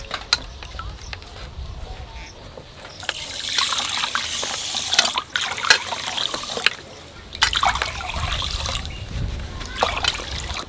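Water poured into a pot of sugar for making sugar syrup for rasmalai, a continuous close splashing gush that swells and briefly dips, with people talking over it.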